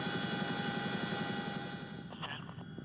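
Army helicopters fly away from a lonely Alaskan valley, a steady rotor thump with a whining engine drone, fairly faint and fading slightly as they recede, with no talk.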